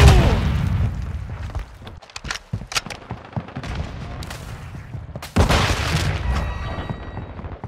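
A flashbang grenade bursts in the shooter Modern Warfare 2: one sharp, loud bang followed by a lingering high ringing, amid scattered nearby gunshots throughout.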